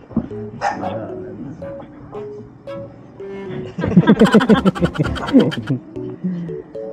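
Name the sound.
angry dog barking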